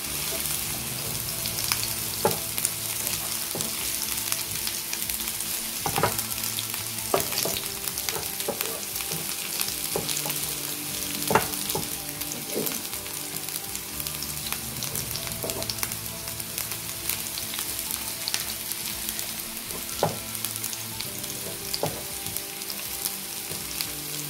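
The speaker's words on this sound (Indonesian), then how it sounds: "Kita tumis sampai harum ya." Papaya flowers stir-frying in a pan make a steady, close sizzle. Scattered clicks and scrapes of stirring punctuate it throughout, with no voices.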